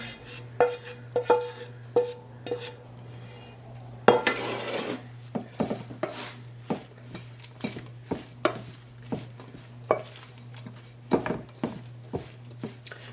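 An apple mixture tipped into a pan and stirred, with repeated close clinks and scrapes of a utensil against the pan and a soft sizzle underneath, no talking.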